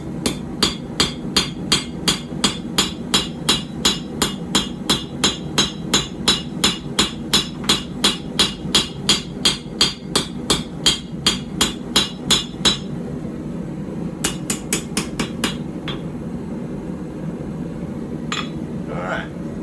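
A hammer striking hot steel while forging a puukko knife blade, a long run of sharp, evenly spaced metallic blows at a brisk rhythm, then a pause and a few more strikes, with faint background noise between.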